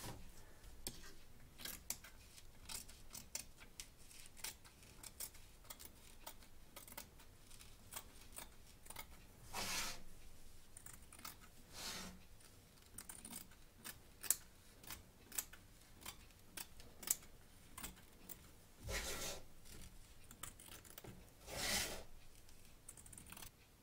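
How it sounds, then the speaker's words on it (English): Scissors snip away excess fabric from the front and back of an embroidery hoop, a long run of quiet, close cuts and rustling fabric with a few louder bursts of handling, no voices. "Trim away the excess fabric from both back and front of the hoop, taking care not to cut your stitches"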